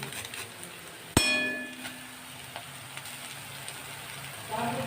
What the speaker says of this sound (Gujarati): સરસ રીતે બધી સામગ્રીને સાતળી લઈશું